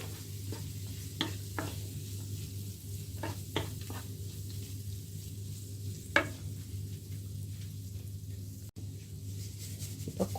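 Frozen green peas sizzle steadily in a hot pan for a vegetable samosa filling, a constant frying hiss with occasional sharper spatters and a stirring clatter, close and alone without talk.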